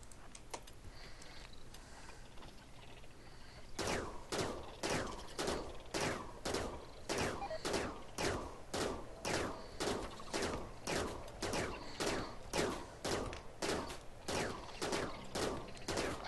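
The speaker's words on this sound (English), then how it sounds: "can send Pyrrha out to go and shoot some buggies" Colonists fire at insect creatures in the desert-survival game RimWorld: a steady rapid string of game gunshots, evenly spaced and moderately loud, starting after a few quieter seconds and continuing to the end.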